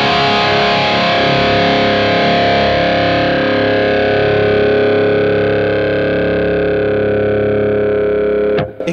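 Distorted electric guitar through a Kemper amp profile, a single heavily driven note or chord ringing with long, even sustain for nearly nine seconds before being abruptly cut off.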